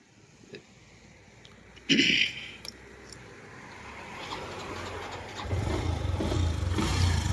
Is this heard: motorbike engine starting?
yes